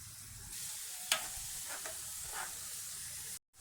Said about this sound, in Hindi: तो अब हम इसको तड़का लगाने लगे हैं।